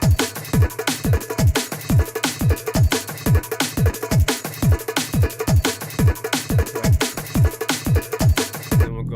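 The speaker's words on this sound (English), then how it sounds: "So that's my drums, which sound like this." A producer's finished drum track from an album project plays: punchy kicks with pitched, falling tails and crisp hats and snares in a steady, driving rhythm, loud and alone with no talk.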